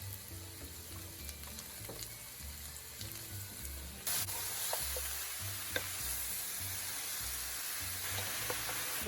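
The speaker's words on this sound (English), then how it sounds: "we're gonna put all our mushrooms in and saute" Mushrooms sauté in a pan for a spinach and mushroom lasagna, a continuous sizzle that grows louder partway through, with occasional spoon scrapes and clicks.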